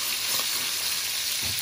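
Thai sauce simmering in a pan, with a steady close sizzle and hiss that continues throughout, a couple of soft low bubbling pops, no talking.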